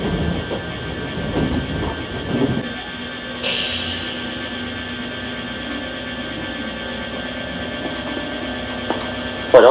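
Inside a Kintetsu Urban Liner limited express train in Mie, a steady rumble and electrical hum run throughout, with a brief burst of hiss partway through and a sharp click right at the end.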